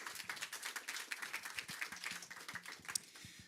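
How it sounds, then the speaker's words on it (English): A conference audience at a summit welcomes the speaker with a fairly faint, even stretch of many hands applauding, with no voices over it. "Let's give him a warm round of applause"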